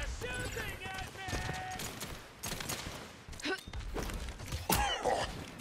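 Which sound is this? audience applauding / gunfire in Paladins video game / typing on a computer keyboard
gunfire in Paladins video game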